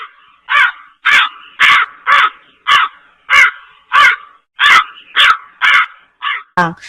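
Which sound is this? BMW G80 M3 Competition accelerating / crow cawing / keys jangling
crow cawing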